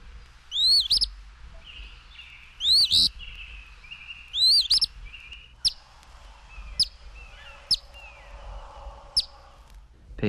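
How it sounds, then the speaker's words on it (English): Eastern Phoebe song: clear, close, repeated short raspy two-part phrases with sharp upward notes, several in sequence separated by brief pauses, some followed by quieter chip notes. "Eastern Phoebe."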